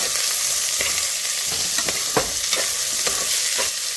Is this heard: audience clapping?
no